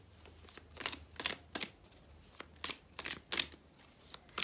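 A tarot card slipped back into the deck, then a run of crisp, papery riffle bursts as the cards are shuffled close up, eight or so quick flurries with short gaps between.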